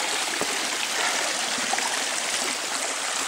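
A mountain stream in Tahquitz Valley on San Jacinto flows in a steady, close, full rush of water, continuous for the whole stretch with no voices.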